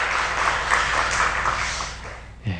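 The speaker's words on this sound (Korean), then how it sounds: "우리 이분들을 위해 한번 박수 한번 해주시겠습니까?" A church congregation at an afternoon Sunday service applauds, with dense, steady clapping from many hands that fills the room and fades out near the end.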